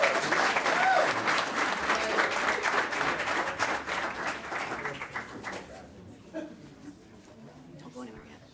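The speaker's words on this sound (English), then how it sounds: "one more round of applause" Audience applause fills a school board meeting room, a dense wash of many hands clapping that stays loud for about six seconds, then thins into scattered claps and murmuring as it fades.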